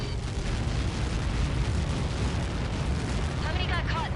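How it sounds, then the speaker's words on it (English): A massive explosion from Helios projectiles hitting the blast area in the combat flight game Ace Combat 7: Skies Unknown, heard as a loud, sustained, deep rumbling roar that fills the whole stretch, with a few warbling tones near the end. "How many got caught in that explosion?"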